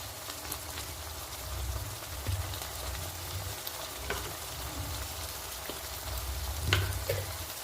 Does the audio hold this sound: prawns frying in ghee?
yes